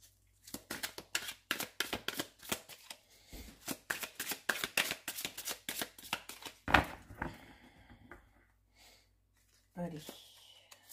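Tarot cards shuffled and drawn, a quick run of crisp riffling slaps and flicks in close succession, then a few softer single card sounds near the end, close and fairly quiet.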